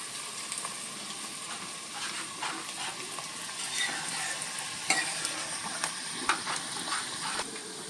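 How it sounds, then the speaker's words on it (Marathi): Garlic and dried red chillies crackle in hot oil for a tempering, a bright continuous sizzle with scattered pops and the odd scrape of a spoon. "आणि आता ही पहिली लसूण घालायची फोडणी ही एकदम लाल बुंद झाली पाहिजे"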